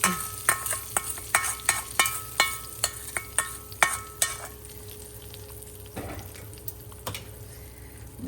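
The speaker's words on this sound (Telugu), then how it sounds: "పోపు వేగిపోయిందండి" A tempering (popu) of spices fries in hot oil for a brinjal roti pachadi. A rhythmic run of spoon clacks and scrapes comes over a sizzle, then settles into a faint, steady hiss.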